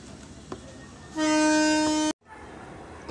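A commuter train in Camarines Sur, Philippines, blasts a loud, sustained horn for about a second amid rumbling rail noise, then the sound cuts out briefly before the rumble continues.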